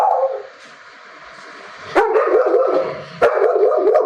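Several dogs bark at a kennel, a sharp bark near the start, then two loud barks around two and three seconds in, with whimpering yips between them.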